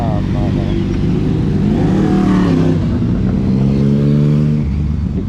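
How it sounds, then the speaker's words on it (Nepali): Engines hum and rev steadily as motorbikes ride past close by, with a voice talking over the traffic noise. "हेर त बाइकहरू"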